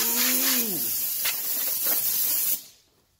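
Compressed air blasts dust out of an old Gateway Select Athlon 700 MHz desktop computer, a loud steady hiss that runs for about two and a half seconds, then cuts off abruptly. A brief voice-like tone sounds at the start.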